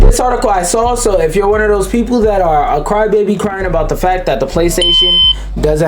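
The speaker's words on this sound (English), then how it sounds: "These are usually the alarms I adhere to that remind me" A phone alarm beeps briefly near the end of a continuous stretch of someone talking.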